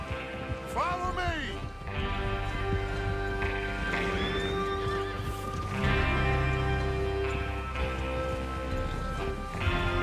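Horses in the Red Dead Redemption 2 video game give a sharp neigh near the start, then hooves clip-clop through the rest, loud and close, mixed with game music and low tones.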